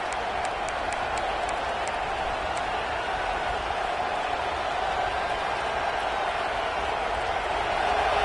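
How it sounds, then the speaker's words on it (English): A large stadium crowd roars in a sustained, dense wash of noise, steady and loud with no pauses, in a college football video game. "Listen to this crowd just shaking the girders of this place, trying to help their defense."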